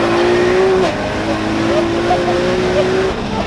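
A 1300-horsepower Nissan R35 GTR revs hard during a pull, with rising engine tones that climb, drop back, then climb again, loud and close for a few seconds while a person talks over it.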